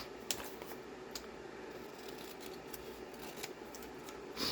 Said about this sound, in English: I'm actually going to cut this top off because I don't use the flap when I do these decoupage